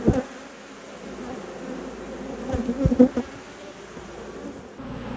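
A steady, dense hum of honeybees buzzing around the front of a large beehive, continuous and close, with a few louder swells as individual bees pass near.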